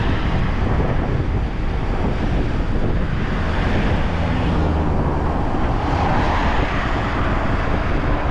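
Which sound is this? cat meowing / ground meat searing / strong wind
strong wind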